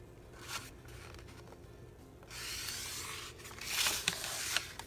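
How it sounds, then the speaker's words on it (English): A large sheet of paper is folded, giving soft rustling and sliding scrapes with a longer crinkly swish partway through, quiet and close with no talking. "So we're gonna fold this one up."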